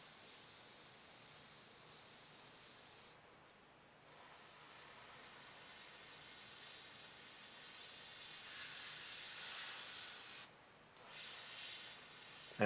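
A steady spray hiss of paint runs for several seconds with two brief pauses, sounding close and continuous like an aerosol or airbrush, spraying panel lines on a Millennium Falcon model.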